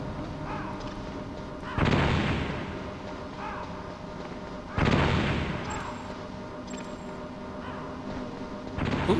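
Grenades explode in the Metal Gear Solid video game, three booming blasts spaced a few seconds apart. Each one rises sharply and then rolls off into a fading rumble.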